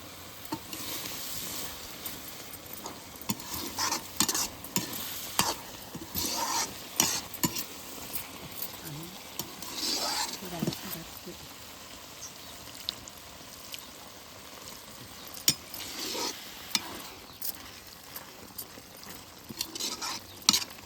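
Garlic sizzles and fries in a pan for karela curry while a spoon stirs it, with steady crackling broken by repeated scraping strokes and soft clatter, close and alone without speech.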